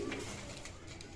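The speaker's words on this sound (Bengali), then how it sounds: "আপনারা এখন দেখতে পাচ্ছেন স্ক্রিনে এক জোড়া গোল্লা কবুতর।" Gola pigeons cooing, a short low throaty coo near the start followed by soft ambient noise, close and faint, with no talking heard.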